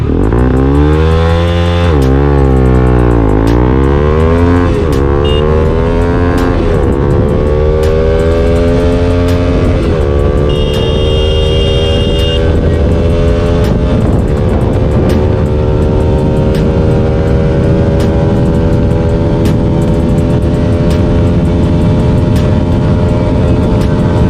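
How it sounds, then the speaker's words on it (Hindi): A Bajaj Pulsar NS200 fitted with an R9 racing exhaust launches hard, its loud engine note dipping and then climbing steadily in pitch through the gears and holding a high, raspy roar to the end. "मैं यहीं से लॉन्च करता हूँ गाड़ी को।"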